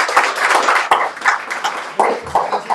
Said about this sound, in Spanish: Un aplauso para Lika.